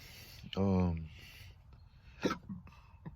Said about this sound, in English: I have a lot of burps